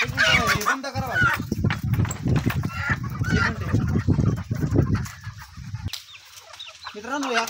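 Country chickens being carried outside cluck and squawk at close range, mixed with someone talking, before the noise drops briefly and resumes.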